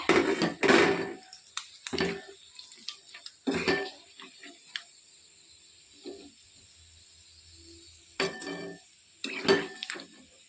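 Fried small fish scraped from a pan into a bowl make clattering utensil knocks and metallic scrapes in uneven bursts, separated by quiet gaps, close by.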